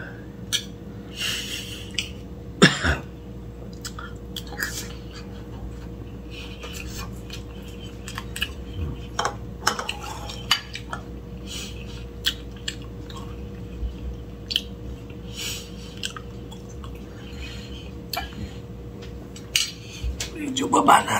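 Cutlery clinking against dishes during a meal of beef mechado in tomato sauce, sparse scattered taps and scrapes over a quiet room with occasional breathing and faint voices.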